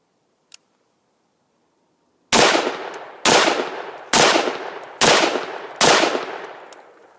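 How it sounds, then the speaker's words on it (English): Five sharp rifle shots from a newly built Duracoat camo-finished rifle, evenly spaced about a second apart, each loud crack trailing off in a short echo, after a faint click and a stretch of quiet. "These are the first shots I've ever fired."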